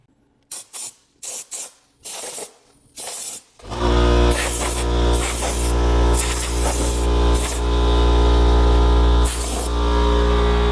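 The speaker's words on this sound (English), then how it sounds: "I'm going to run the compressed air and blow everything out just to make sure" Compressed air blasts out the oil pan of an MK6 Jetta 1.8 TSI. A few short sharp spurts come first, then a long, loud, continuous hissing blow with slight surges.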